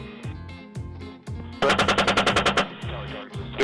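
Chain gun of an AH-64 Apache helicopter firing: a loud, close burst of rapid, evenly spaced shots, bracketed by heavy rhythmic rotor thumping.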